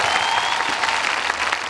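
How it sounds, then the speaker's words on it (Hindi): Crowd applause at a large Dalit protest rally in Una, a steady dense wash of clapping from a big gathering, loud and continuous throughout. "उनके लिए तालियां।"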